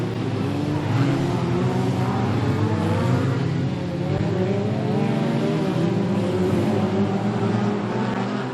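F2 stock cars racing on the oval at Standlake, several engines droning and revving together in a steady, loud, continuous roar with no break.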